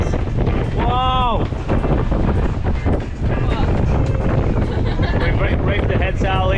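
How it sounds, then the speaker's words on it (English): Strong wind of 20 to 25 knots buffeting a sailboat under a reefed head sail, loud constant roaring gusts hitting the microphone with rushing water beneath, and people talking over the din. "We've got 20 to 25 knots of wind."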